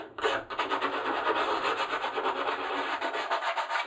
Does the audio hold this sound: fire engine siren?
no